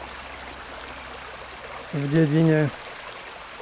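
The Veperec stream flows with a steady, even rush of water, and a voice briefly speaks over it near the end.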